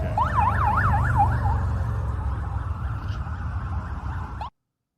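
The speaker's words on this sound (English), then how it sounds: "those sirens are going 24/7." An emergency vehicle siren in Washington, DC wails, rising and falling rapidly over heavy traffic rumble, fading after a second or two while the road noise continues until it cuts off.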